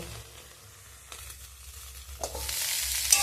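Eggplant pressed down and frying in a pan for a home-style potato and eggplant vegetable curry. A soft, quiet sizzle grows louder toward the end, with faint scraping of a utensil against the pan.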